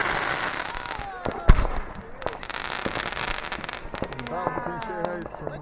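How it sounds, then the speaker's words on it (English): Fireworks bursting and crackling over Shea Heights on New Year's, with repeated sharp pops and one loud near bang among a dense backdrop of distant explosions, while people talk and call out in the background. "you should see all the fireworks. They're everywhere."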